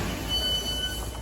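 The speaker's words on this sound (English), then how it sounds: "This is a networker depot full of terrible networker trains" Inside a Networker train carriage on the Lewisham line, a loud steady rumble of wheels and motors with a thin high whine running through it, continuous and close, without speech.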